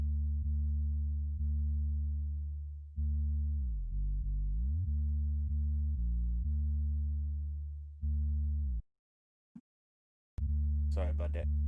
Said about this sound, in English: Then you got the 808.